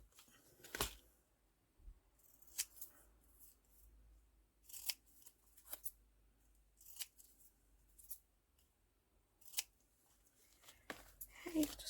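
Scissors make a series of crisp snips at uneven intervals, close and quiet, as they trim around small paper tickets for a vintage journal; a faint voice murmurs in the background.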